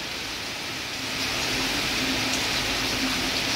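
Heavy rain pours nonstop onto a house and its flooded yard during a 2025 flood, a steady dense hiss that swells slightly louder after the first second and continues without pause.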